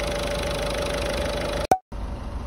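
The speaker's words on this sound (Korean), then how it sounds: "일단 엔진은 전반적으로 이 떨림이 굉장히 많아 보이는데, 그게 4기통 디젤 엔진이 올라가 있고" A Peugeot 208 with a four-cylinder diesel engine idles with heavy vibration, a steady close rumble broken by a brief dropout near the end before it resumes.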